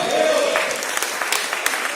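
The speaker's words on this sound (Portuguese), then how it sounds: "Dá um glória a Deus, um aplauso" Brief applause from a church congregation at a Sunday service, steady clapping with raised voices over it, loud and close.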